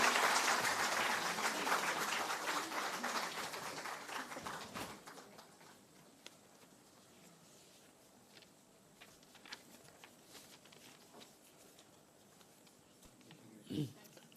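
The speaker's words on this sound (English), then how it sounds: "Big round of applause." Audience applause at a STEAM workshop starts fairly loud, then fades over a few seconds into sparse scattered claps and quiet room sound.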